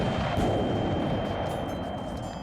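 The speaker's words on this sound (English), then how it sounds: "Deafening gunshots ring out from above" Deafening gunshots from above rattle through a battle at a gate in the video game The Life and Suffering of Sir Brante, a dense, continuous roar of gunfire with no clear gaps between shots.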